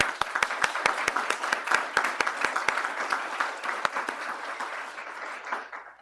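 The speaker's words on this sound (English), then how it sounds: "A round of applause for Larry." Audience applause at a global health and law commission event, a steady patter of many hands clapping that carries on for several seconds before thinning and fading out, heard from within the room.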